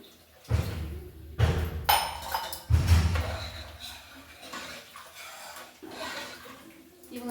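Water from a glass is poured into a cooking pot, with heavy splashing pours and dull knocks of the glass against the vessel arriving in a few close bursts.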